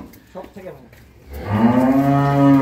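A dairy cow at a cattle farm in Dinajpur lets out one long, loud, close moo that swells and holds to the end, after a brief, quiet voice.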